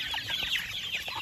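A group of chicks cluck and peep busily and close by during feeding, with soft overlapping calls in quick succession.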